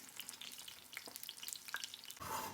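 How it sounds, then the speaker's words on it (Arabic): Eggplant slices fry in hot oil in a pan over medium heat, making a dense, continuous crackling sizzle that is close and steady, with a louder hissing surge at the very end. No one speaks. "انا كملت الدنجال بالقلي"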